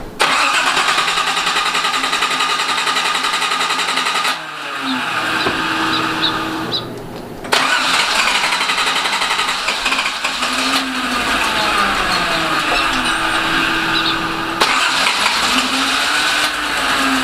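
A Datsun 280ZX engine cranks over repeatedly without catching, a loud close mechanical churn broken by short pauses and restarted in several attempts, with no talking.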